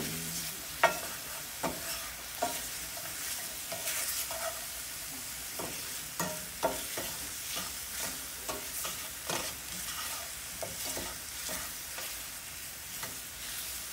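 A spoon stirs brown sugar syrup into apple cinnamon oatmeal in a cast iron skillet, with repeated close scraping strokes over a soft bubbling sizzle and no talking.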